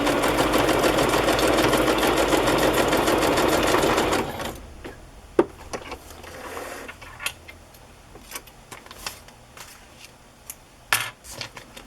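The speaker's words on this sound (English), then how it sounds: "Just gonna sew it in an X for something different." A sewing machine runs at a fast, steady whir for about four seconds while stitching an X across a fabric pocket, then stops, followed by scattered clicks and small handling sounds.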